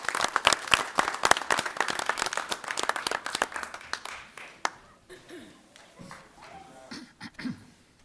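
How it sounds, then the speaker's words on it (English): Audience clapping at a village board of trustees meeting after a color guard presentation, dense and loud for about five seconds, then tapering off into scattered claps and a voice speaking. "Let's give them a round of applause."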